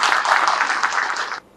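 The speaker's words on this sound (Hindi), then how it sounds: "एक बार जोरदार तालियों से माने" Loud, dense applause from an audience at a workshop on tribal development held in Bhopal, Madhya Pradesh. The clapping runs steadily for more than a second and then stops sharply.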